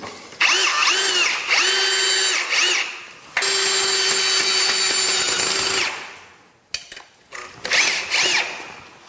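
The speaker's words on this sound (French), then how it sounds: "Voilà, les chevilles sont rentrées. Et il suffit de visser." A power drill drives screws into wall plugs while mounting an air conditioner, whining in long bursts that rise and stop, then short, halting spurts near the end, loud and close.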